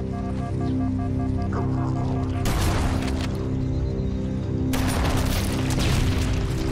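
Gunfire and explosions in the first-person shooter Halo: Combat Evolved, two sharp, loud bursts a couple of seconds apart over a steady droning game soundtrack.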